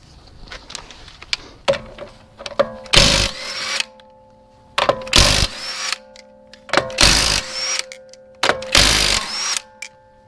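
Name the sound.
power tool removing wheels from a Hyundai Veloster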